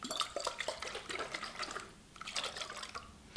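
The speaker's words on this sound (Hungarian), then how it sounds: "most következik az összerázás" A bottle of homemade vinegar and essential oil cleaner is shaken by hand, giving a burst of sloshing, splashing liquid sounds, a short pause, then a second round of sloshing, close and fairly quiet.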